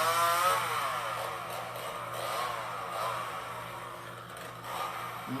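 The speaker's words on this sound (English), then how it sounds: "What's she doing with that chainsaw?" A chainsaw runs with a steady, wavering engine whine that stays loud and close for several seconds, with no talk over it.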